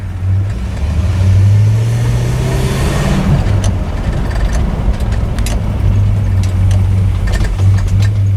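A 1962 Chrysler 300 Sport Convertible accelerates close by, its engine note climbing in pitch, then dropping sharply as the transmission shifts before settling into a steady drone with light road and wind noise.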